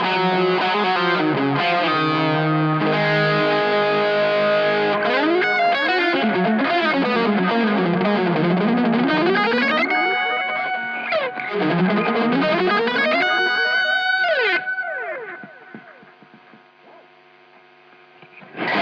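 Electric guitar played through an MXR Carbon Copy Deluxe analog delay pedal, sustained distorted chords and sliding notes with repeating echoes, loud and continuous before fading near the end.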